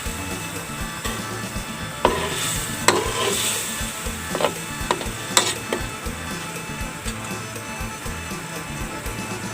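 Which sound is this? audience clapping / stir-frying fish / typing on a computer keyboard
stir-frying fish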